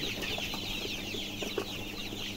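A flock of young farm chickens raised in a village clucks in scattered short calls over a steady hiss, fairly close and moderately quiet, with no voices.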